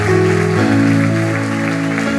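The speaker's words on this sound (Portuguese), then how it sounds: "Aplauda Jesus aí" A church congregation claps for Jesus during a worship service. The steady clapping continues over sustained keyboard tones throughout.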